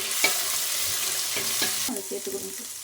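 Ginger garlic paste sizzles and crackles steadily in a hot pan alongside sautéed onions while being stirred, a continuous frying hiss with occasional scraping, no voices.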